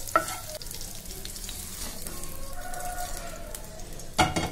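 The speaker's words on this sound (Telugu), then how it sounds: "ఇవన్నీ ఒకసారి ఇలా కలుపుకోండి" Spices such as coriander seeds and fenugreek being stirred in a pan for cluster bean chutney, a steady soft dry scraping and light sizzle close by, with a sharper clatter of the spoon near the end; no talking.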